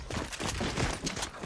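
Rapid bursts of video game gunfire from a Fortnite match, a dense, continuous crackle of overlapping shots that stays fairly steady in loudness throughout, with no speech over it.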